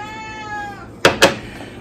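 A cat in a home kitchen gives one long, clear, close meow, then two brief sharp knocking sounds follow and the meowing stops.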